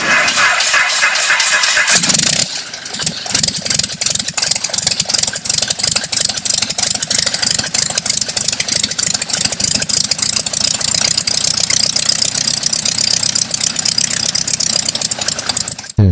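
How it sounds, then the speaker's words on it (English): A new Grumman Tiger aircraft engine runs on a test stand after a short startup burst, settling into a loud, steady, close pulsing drone that continues without talk. "listen to the new engine run on the test stand that's going back in the Project"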